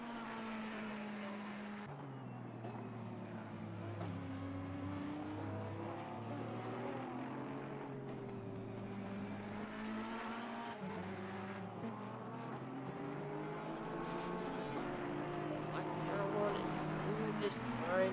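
A Ferrari GT race car at Silverstone drones steadily through its gears, engine pitch rising and dipping with shifts and a sharp downshift early on, while a commentator talks over it throughout.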